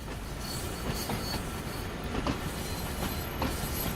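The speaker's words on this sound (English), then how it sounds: "We are still pushing against the brakes by the sound of things" A German train in Train Sim World rolls along with steady rumble, faint squeal and rhythmic wheel clatter while its brakes are held, a constant mid-level cab sound without talk.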